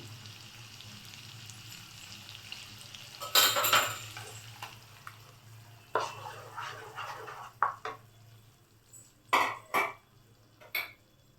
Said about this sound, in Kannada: ಈ ಮೊಸರನ್ನ ಈಗ ಹಾಕ್ಕೋತಾ ಇದ್ದೀನಿ